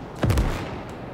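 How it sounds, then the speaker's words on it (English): A German field howitzer fires once in Gates of Hell: Ostfront, a single heavy boom with a deep low-end blast that decays over about a second. "It's an artillery gun, or a field howitzer, sorry."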